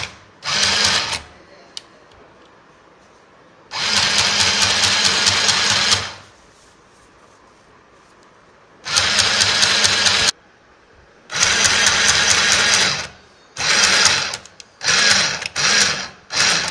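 Sewing machine stitching the bottom hem of a chudidar, running in loud close bursts of a few seconds each, separated by quiet pauses, with the last bursts short and choppy.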